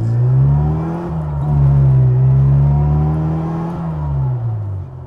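A supercharged Mini engine hums loudly and close, its pitch rising and falling across a few rev changes with a steady whine on top.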